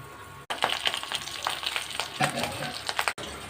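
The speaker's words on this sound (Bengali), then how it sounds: "পাবদা মাছটা একটু ফটফট করে ফাটছে তেলে দেওয়ার সঙ্গে সঙ্গে" Pabda fish fry in hot mustard oil in a kadai seasoned with nigella seeds, giving a close, continuous sizzle broken by sharp crackles and pops, with no talking.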